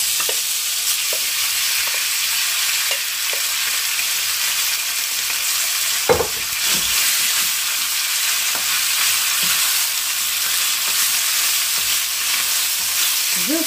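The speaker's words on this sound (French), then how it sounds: "Dans un wok, je mets une belle cuillerée d'huile à chauffer. Je viens ensuite y mettre ma viande." Beef seared in a wok of hot oil over very high heat gives a loud, steady sizzle, with occasional light clinks and scrapes of stirring and no talking.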